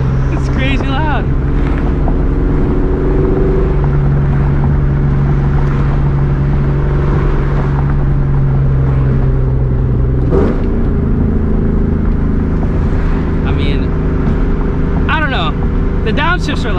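A 2004 Ford Mustang GT with a Borla ATAK exhaust drones loudly and steadily, then its engine note shifts and climbs in a sharp rev change partway through, with a deep rumble throughout.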